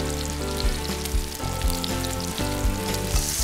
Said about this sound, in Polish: Mogę zacząć smażyć mięso.